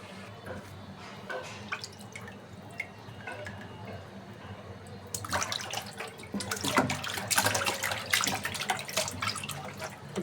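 Meat is washed under a running tap, water splashing and dripping in a sink, quiet at first and then louder and busier splashing as the pieces are rinsed, close by with no talk.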